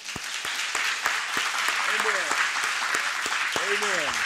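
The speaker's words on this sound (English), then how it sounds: "Come on, let's give everybody a hand clap." A church congregation applauds during a sermon in a loud, sustained wash of clapping, with a few sharp individual claps standing out and voices calling out over it.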